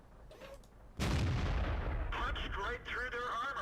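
A tank cannon fires in World of Tanks, a sudden loud boom that rolls into a long rumbling blast with game effects and faint background sound continuing after it.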